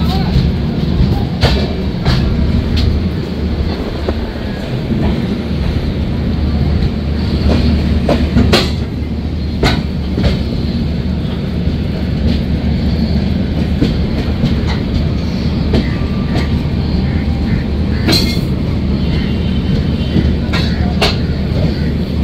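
The 13135 Kolkata–Jaynagar express rumbles along steadily from inside a 3AC coach, with a continuous low roar, clickety-clack of wheels over rail joints and occasional sharp clanks, and faint voices underneath.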